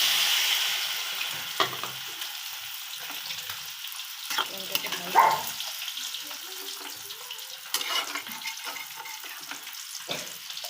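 Hot water poured into a dry pan of prawns and kochur loti, a steady hiss and sizzle with scraping stirs and a few sharper clatters throughout, fairly close.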